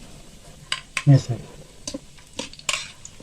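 Browned onions in a frying pan being stirred and scooped out with a metal spoon, giving scraping clinks and soft sizzle close up, while a voice speaks briefly.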